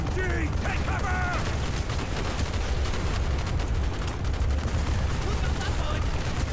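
Sustained, dense automatic gunfire from a machine gun in the video game Call of Duty: Black Ops, loud and continuous throughout amid other battlefield firing, with soldiers shouting orders over the din.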